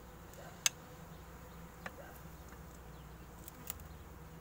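Honeybees hum faintly around opened hive frames after returning from heather, a soft continuous buzz with a few brief clicks and ticks scattered through, no voices present.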